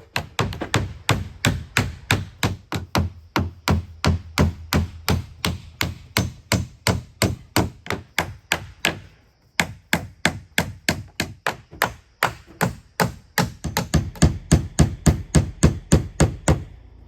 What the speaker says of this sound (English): I'll start nailing the trim boards up as they're dry